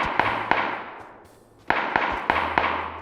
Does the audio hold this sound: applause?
no